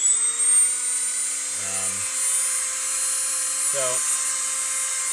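A high-pitched power tool whines continuously while cutting a SIG P320 X-Series polymer pistol frame in a fixture, with a voice speaking briefly twice over it.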